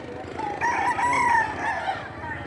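A rooster crows nearby, a long drawn-out call rising and falling over a steady background hum, with no talking.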